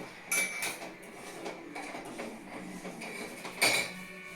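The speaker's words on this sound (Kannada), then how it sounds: "ಆ ಕಾಲಿಗೆ ಸ್ಯಾಕ್ಸ್ ಹಾಕೊಂಡು ಸ್ವೆಟರ್ ಹಾಕೊಂಡು ಪಾತ್ರೆ ತೊಳಿತಾ ನನ್ನ ಮಗಳು" A daughter washing dishes, pots and vessels, with scattered metallic clinks and clatters of utensils knocking together over a running-water wash, fairly faint, with two louder clangs.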